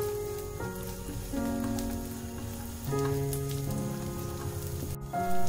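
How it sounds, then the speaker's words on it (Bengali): Cashews and raisins fry in a hot pan with oil for a semolina mohanbhog sweet, giving a steady, close sizzle that holds throughout with no voices. "কিশমিশগুলো দেওয়ার পর হালকা একটু নাড়াচাড়া করে ভেজে নেব"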